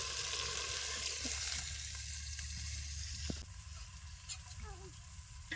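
Fish fries in a pan with a loud steady sizzle, while a voice talks intermittently over it; the frying drops off partway through, leaving quieter stirring and talk.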